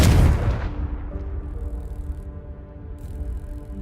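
In a Hogwarts video game, a Confringo spell sets off a loud, booming explosion that erupts at the start and then rolls away into a long, rumbling decay with a faint lingering tone.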